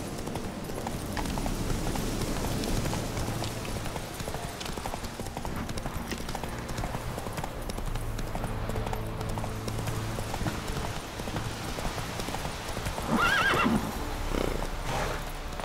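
Horse hooves clip-clop in a steady gallop through The Witcher 3 game world, continuous and fairly close, with a brief whinny near the end over quiet background music.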